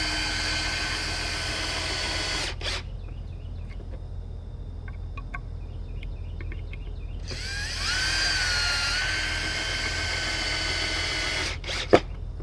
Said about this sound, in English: we pre-drilling the holes into the wood so it doesn't split